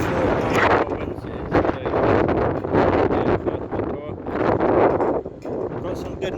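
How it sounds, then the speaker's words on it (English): Strong wind at a ferry port on Fuerteventura in the Canary Islands, a loud continuous buffeting roar against the microphone that surges and eases throughout. "It's very windy today."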